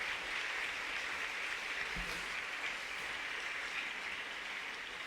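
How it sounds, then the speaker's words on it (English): After a panel conversation, an audience gives a soft, dense wash of applause that stays even and fairly distant throughout, with no voices on top. "A round of applause for them."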